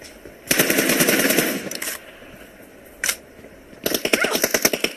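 Gunfire in a mobile shooter video game team deathmatch: a sustained automatic burst for over a second, a single short shot, then another rapid rattling volley, loud and close.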